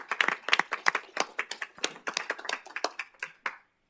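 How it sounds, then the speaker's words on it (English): A small council meeting audience clapping for about three and a half seconds, individual hand claps distinct and close, tapering off before stopping abruptly. "let's give them a round of applause for that one"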